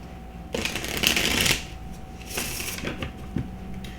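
Tarot-style true crime cards are shuffled close by in two riffling bursts, each a dense flutter of card edges lasting about a second, with quieter handling between.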